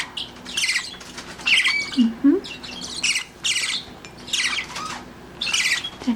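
Bourke parakeet chicks, partly feathered with skin still showing, squawk in repeated harsh bursts while being hand fed, loud and close, with soft handling noises and low background hum between calls.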